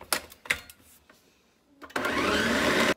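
A few short clattering bursts, then a loud, steady blender whirring starts up, blending a cup of cold water, and runs for about a second before cutting off.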